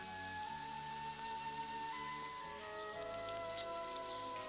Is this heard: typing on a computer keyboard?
no